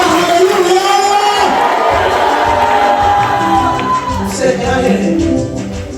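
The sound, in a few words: church congregation applauding and cheering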